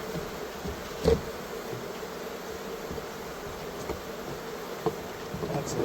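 Honey bees buzz steadily around a large beehive outdoors in early spring, a constant droning hum with a few louder passes as individual bees fly close by.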